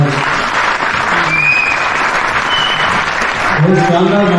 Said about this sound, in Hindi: आप एक बार तालियां बजाकर बता दें कलाकारों को